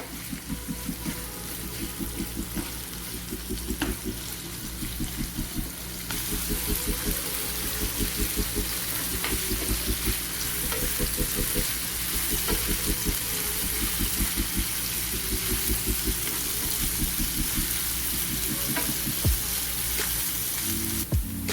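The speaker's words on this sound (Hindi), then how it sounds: "अब इसको फ्रेंड हल्का ब्राउन होने तक फ्राई करेंगे।" Chopped onions fry in a pan for a Pakistani malai keema, a steady close sizzle with crackling oil and occasional stirring scrapes throughout, with no talk.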